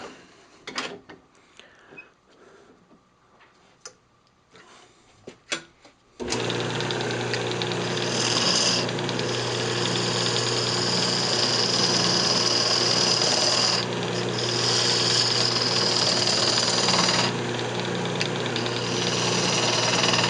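Wood lathe spinning a yew box for hollowing, a few scattered clicks and bumps before the tool bites into a loud continuous roaring cut that holds steady to the end.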